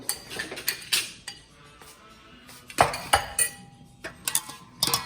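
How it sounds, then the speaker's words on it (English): A spoon clinks and scrapes against a bowl while tossing a cucumber salad with onions, giving a run of irregular close knocks and chinks with short pauses between them. "we're gonna mix it and kind of break up some of these onions"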